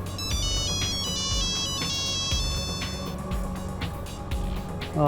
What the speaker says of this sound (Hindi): अचानक एनी के शौहर का फोन आ गया।